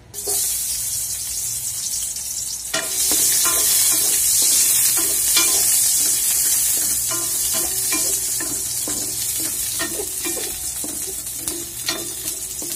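Garlic drops into a hot pan and sizzles loudly, a sudden surge of bright frying hiss that stays steady and close with scattered crackles and pops, no voices.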